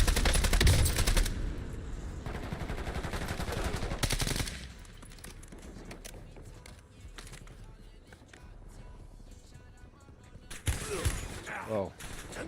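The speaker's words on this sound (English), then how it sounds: "I'm taking fire!" Video game gunfire: loud bursts of automatic shooting up front, a steadier stretch of quieter shots and combat noise, then renewed heavy fire near the end, with some voice in the mix.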